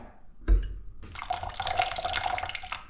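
After a thump, an opened tap gushes steadily and close, a loud broadband rush of running water that holds on without a break.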